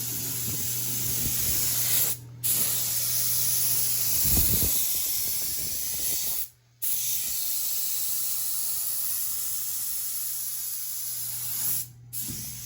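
Spray gun laying a second coat of paint on the cab of a 1976 Dodge D100 pickup, a steady close hiss in long passes broken by brief pauses, with no talking.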